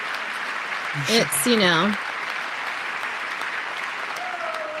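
Audience clapping steadily in a crowd watching a congressional address broadcast, a continuous wash of applause with a short spoken phrase briefly over it.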